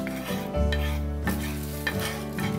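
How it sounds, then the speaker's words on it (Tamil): Spinach rolls grill in oil on a hot tawa, giving a loud continuous sizzle broken by spatula scrapes and turning sounds. "ஸோ ரெண்டு பக்கமும் கிரில் பண்ணி அப்படியே பண்ண வேண்டியதாக ஸ்பினச் ரோல் எடுக்கிறேன்"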